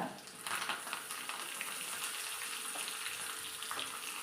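Tempering frying in a pan while making dibba rotti chutney, a steady close hiss of sizzling oil crackling with small pops throughout.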